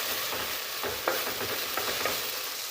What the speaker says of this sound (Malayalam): ആ 4 പച്ചമുളകിനെ ഒന്ന് നടുകെ കീറി ഇട്ട് കൊടുക്കാം. അതും കൂടി ചേർത്തിട്ട് നന്നായിട്ടൊന്ന് ഇളക്കി യോജിപ്പിച്ച് കൊടുക്കാം.